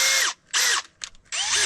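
A power drill whirs in three loud bursts with short pauses between, each spinning up and winding down, fitted with a bit for work on the metal of a harvester.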